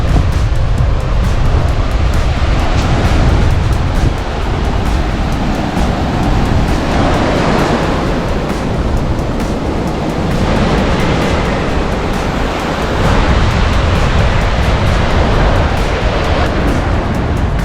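Surf rolling in at Manzanilla Beach in Mayaro, Trinidad, on an overcast day with seaweed in the water: loud continuous roaring wash of breaking waves, swelling and easing steadily throughout, with no voices.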